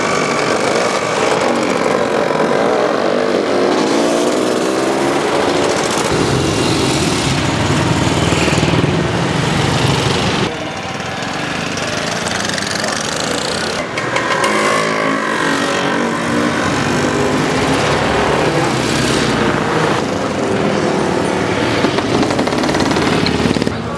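A 1963 Italian scooter with a souped-up 200cc engine runs loud and steady up close, its buzzing exhaust note rising and dipping slightly as it revs, with no voices over it.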